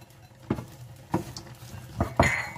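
Shallots, garlic and carrot stir-fried in hot oil for pasta bolognese: four distinct scraping clanks of a utensil against the pan, close by, over a faint background hiss.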